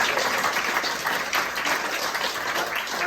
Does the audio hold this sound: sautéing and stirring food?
no